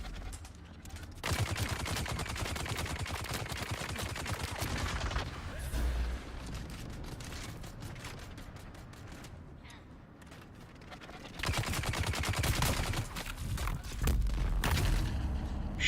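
Sustained bursts of rapid gunfire from the video game Dune Awakening, dense volleys between roughly 1–5 and 11–16 seconds with lighter, sparser shots in between, loud and close.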